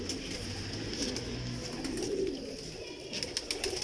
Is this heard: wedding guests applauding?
no